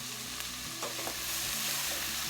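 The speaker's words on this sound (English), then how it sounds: "So I'm going to add that now into the ingredients that I've started. And I'm going to mix this around." Potatoes fry and sizzle in a pot while being stirred, with scraping and clinking against the pot over a constant close crackle, made as the base for a cream of potato and bacon soup.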